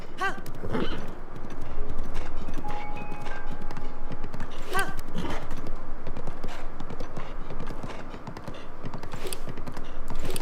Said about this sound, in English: I am literally running a horse straight up a mountain.